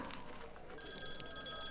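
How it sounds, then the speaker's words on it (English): Telephone bells ringing in an office, a bright steady ring that starts partway through and continues over a soft whispered room ambience, close and moderately quiet. "Phones ringing,"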